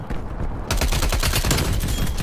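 Rapid automatic gunfire from Call of Duty: Black Ops Cold War, a dense burst of close, loud shots starting abruptly after a brief quieter lead-in and continuing steadily to the end.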